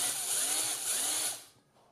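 A power drill whirs at high speed as it drills out a rivet in a computer case, a loud close grinding whine that holds steady and then winds down and stops.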